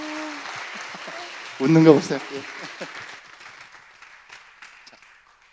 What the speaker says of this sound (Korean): 격려하면서 우리 크게 박수 한번 해주세요